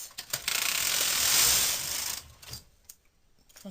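A domestic knitting machine's carriage is pushed across the needle bed while knitting lace by hand transfer, with no lace carriage. One loud rasping mechanical sweep lasts under two seconds, then a few light clicks follow in near-quiet.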